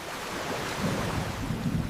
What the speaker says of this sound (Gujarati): જુઓ, વરસાદનું પાણી નાળીઓમાંથી તળાવમાં જઈ રહ્યું છે.